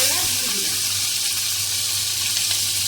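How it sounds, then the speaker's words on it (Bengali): Whole cumin, nigella seeds and dried red chillies tempering in hot oil for a Bengali taro and tangra fish curry, a steady broadband sizzle and crackle that fills the clip at even loudness with no talk. "এই যে সাদা জিরে কালো জিরে শুকনো লঙ্কা ফোড়ন দিলাম"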